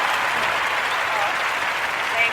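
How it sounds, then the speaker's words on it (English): Canned applause sound effect played on a podcast, a dense, even wash of crowd clapping at moderate level, heard briefly and continuously. "I just played applause"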